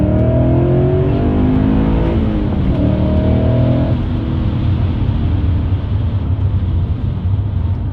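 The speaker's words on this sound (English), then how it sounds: "This specific vehicle has a muffler delete, which, throw it in second here, sounds absolutely incredible." A BMW E39 M5 with a naturally aspirated 4.9-liter V8 and muffler delete accelerates hard in second gear, its loud, raspy exhaust note rising steadily and filling the whole stretch without any talk.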